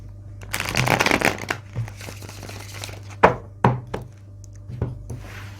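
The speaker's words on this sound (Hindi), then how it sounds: "तो चलिए पहले एक बार शफलिंग कर लेता हूं कार्ड्स की। एक बार और रिशफल।" Tarot cards are shuffled by hand close up, with a rapid riffling flutter followed by several sharp slaps and taps as the deck is squared and reshuffled, over a low steady hum.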